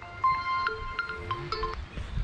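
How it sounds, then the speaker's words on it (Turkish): A mobile phone rings outdoors near farm animals, a faint melodic tone sequence of short repeated notes over a quiet rustling background. "Telefonum çalıyor."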